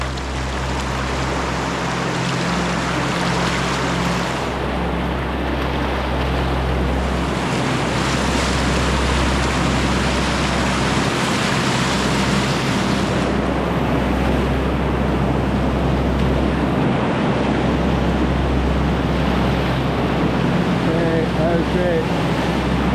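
River rapids and waves rush loudly and continuously around a paddled boat on a Patagonia river, with heavy wind buffeting the microphone and a constant churning roar close by.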